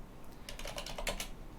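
Quick, light keystrokes on a computer keyboard, a short burst of fairly even clicking taps heard close and quietly, with no voices.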